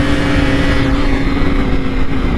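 A BMW S1000 RR motorcycle ridden two-up on a race track gives a loud, steady engine roar mixed with wind rush, close and without talk.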